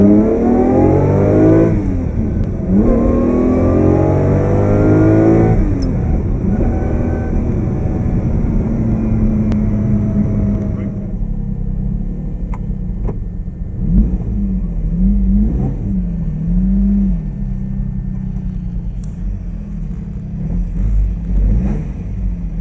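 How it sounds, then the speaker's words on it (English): Lamborghini Miura engine revving during a ride, loud rising and falling harmonic sweeps through several gear changes, then a steadier deep rumble with occasional surges, close and continuous with no talk. "the chance to ride in a Lamborghini Miura and test some of the sound out on this thing"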